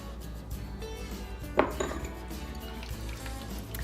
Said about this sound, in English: So I'm going to stir this in.